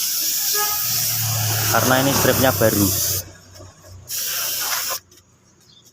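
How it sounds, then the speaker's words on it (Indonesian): Spray gun applying paint over the new stripes on a Suzuki Supra motorcycle body, a loud steady hiss running under a man's speech, cutting off briefly, resuming, then stopping. "Kita semproti bagian kiri kanannya strip ini agar tidak mudah lepas lagi"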